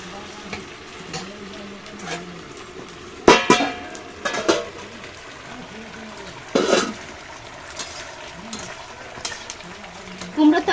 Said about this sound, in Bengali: আমি আরও দশ পনেরো মিনিট চিকেনটাকে ভালোভাবে কষিয়ে নেবো